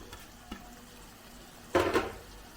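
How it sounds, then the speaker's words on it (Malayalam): Chopped tomatoes tipped into a pan of frying ginger and garlic for an egg bread masala, a few light clinks followed by a short burst of sizzle and stirring near the end, otherwise quiet. "ഇനി നമുക്കിതിനകത്തേക്ക് 2 മീഡിയം സൈസ് തക്കാളി അരിഞ്ഞ് അങ്ങോട്ട് ചേർക്കാം."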